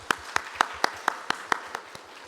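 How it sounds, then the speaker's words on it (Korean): Church congregation clapping in a rhythmic unison beat during a Sunday worship service, with roughly nine sharp, evenly spaced claps close to the microphone. "하나님께 박수로 영광을 드리시겠습니다"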